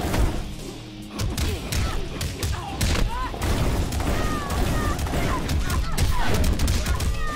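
Shotgun fire in the fighting game Mortal Kombat X: a rapid string of loud blasts, thuds and impact crashes, mixed with whooshing game effects and a busy, dense soundtrack.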